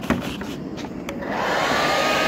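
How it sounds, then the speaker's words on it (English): A handheld blow dryer runs steadily close by, drying paint on a Traxxas RC car body, a loud continuous whooshing roar that swells slightly after a brief click at the start. "And then I use a blow dryer."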